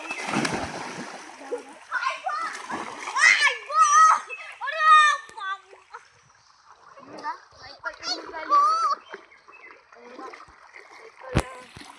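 A bicycle dunked into water and pulled back out, with a loud splash at the start and another near the end, while children chatter and call out nearby through much of it.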